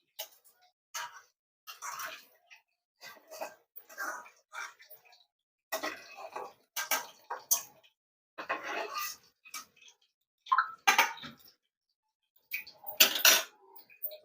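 Fried gorakala fish from a crispy, spicy village-style Andhra fish fry lifted onto a plate, with scattered light clinks and scrapes of a utensil against the dish, fairly quiet and intermittent, no talking.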